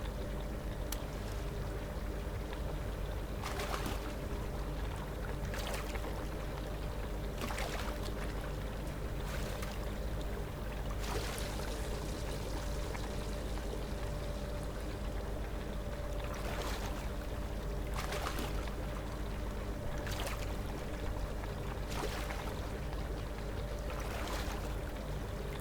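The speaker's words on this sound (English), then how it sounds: "we have to go and dip our parts into the brewing solution" Gun parts dipped into a bluing solution in the video game Gunsmith Simulator, heard as repeated watery splashing bursts over a continuous sloshing, flowing liquid bed with a low steady hum.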